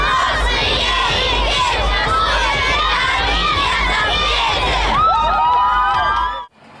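A large crowd of school pupils at a school contest in Vidnoye shouts, chants and cheers continuously and loudly, children's voices dense and overlapping, before the noise cuts off abruptly near the end.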